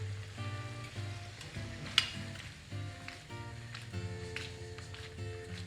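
Calamarata pasta sizzles in a reduced squid sauce in a pan, with soft frying crackle, stirring scrapes and one sharp clink, in quiet, uneven bursts.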